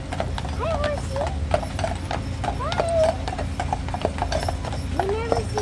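Horses clip-clop steadily on hard ground at close range, and one whinnies several times. People talk over the hoofbeats throughout.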